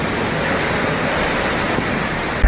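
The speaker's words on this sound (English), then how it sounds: "A furious windstorm rages," A furious windstorm tears through trees, a steady, dense roar of rushing air that never lets up, loud and close, with no voices.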